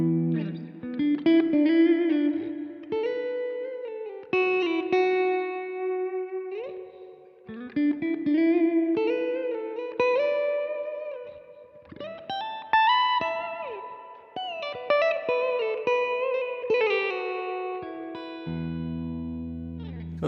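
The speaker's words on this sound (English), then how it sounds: "Next thing I'm going to kick on now is the reverb side of the reflecting pool." An electric guitar played through a compact travel pedalboard with a reflecting pool reverb switched on rings out in sustained chords and picked notes, long washy tails blending one phrase into the next.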